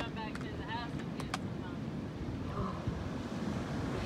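Ocean waves wash onto a beach in a steady, broad surf roar mixed with wind, while brief voices and small sounds come through above it.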